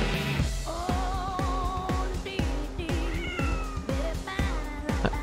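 Cat in Xenoblade Chronicles X meowing repeatedly, a rapid run of loud, wavering meows and caterwauls over a steady pulsing game soundtrack with thudding beats.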